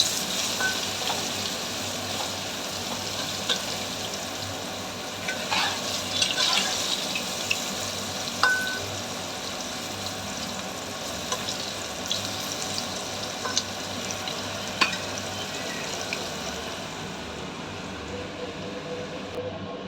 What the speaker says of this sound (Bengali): এবার আলুগুলোকে সুন্দর করে লাল লাল করে ভেজে নেব।